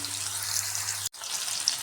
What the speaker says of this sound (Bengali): এবারের এর মধ্যে আলুগুলা ভেজে নিচ্ছি সামান্য লবণ দিয়ে দিলাম